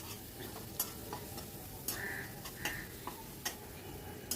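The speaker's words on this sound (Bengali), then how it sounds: "একটু মশলাটা ভালো করে কষিয়ে নেব" Masala fries on a low flame in a pan while being stirred, a quiet continuous sizzle broken by sharp intermittent spoon taps and scrapes against the pan, close and faint.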